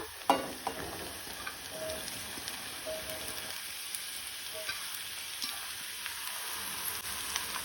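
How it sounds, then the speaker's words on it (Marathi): Chopped onions and green chillies fry in a pan with a soft, steady crackling sizzle, and a sharp clatter comes near the start, without any speech. "कांदो मातसो तळसून घेवपाक जाय।"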